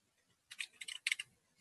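Short burst of typing on a computer keyboard while entering a template ID into a home lab script, several quick clustered key clicks, fairly close but quiet, with silence before and after.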